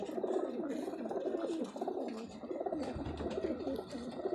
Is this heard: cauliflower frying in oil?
no